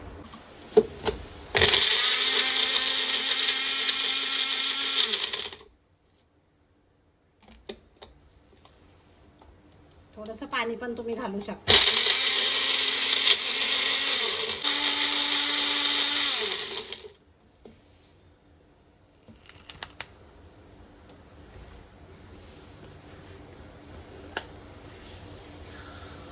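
A mixer grinder blending raw mango for panha, two loud sustained whirring runs of several seconds each with a pause between, followed by quieter clatter and someone speaking briefly.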